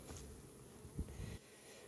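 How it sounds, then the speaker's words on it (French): A swarm of honeybees overflowing from its spot during chestnut blossom season, a continuous low hum that stays steady and close, with a brief louder bump near the middle before dropping off abruptly. "Ça déborde d'abeilles."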